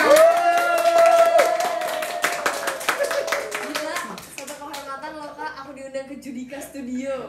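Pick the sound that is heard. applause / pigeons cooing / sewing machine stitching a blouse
applause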